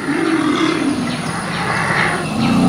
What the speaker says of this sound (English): Elephants have over 70 calls and 160 signals.